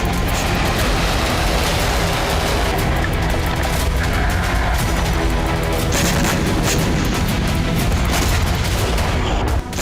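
Iranian air defense firing with explosions in the night sky, a loud, dense, continuous barrage of booms and rapid gunfire-like bursts filling the whole stretch without pause, with no talk.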